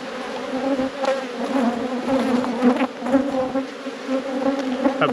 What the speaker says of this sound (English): So plenty of bees again.